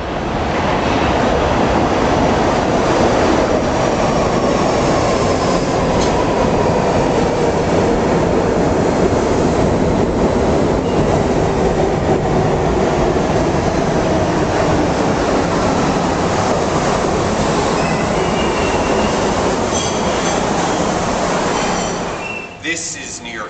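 A New York City subway train on its track, a loud, close, continuous rumbling roar with squealing wheels and rattling cars that holds steady before cutting away at the very end.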